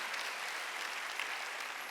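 Church congregation applauding together during a Sunday worship service, a steady even wash of clapping hands filling the room for the whole moment with no voices above it.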